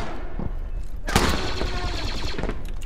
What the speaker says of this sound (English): Yeah, I hear that shotgun.